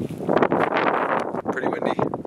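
Gusty wind buffets the microphone outdoors on a cold, snowy day in the Maine mountains, a loud continuous rushing roar with rising and falling gusts and no talk.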